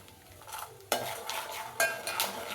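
Peanut oil foaming and frying in a pan while mango rice is prepared, with bursts of stirring and the scrape of a utensil against the pan over a steady sizzle.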